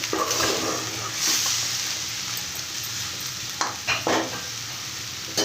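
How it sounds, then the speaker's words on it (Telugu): Steady oil sizzle of leafy greens (thotakura, amaranth) frying on a low flame in a pan, with a few scraping stirs of a spoon toward the end; close and continuous, no voices. "ఒక రెండు నిమిషాలు వేయించుకోవాలి సన్న మంటలోనే కాసేపు వేయించడానండి"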